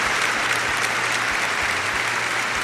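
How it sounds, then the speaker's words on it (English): Dense, continuous applause fills a room at a fantasy football league celebration, loud and even throughout, with a low steady hum beneath it. "Round of applause, ladies and gentlemen."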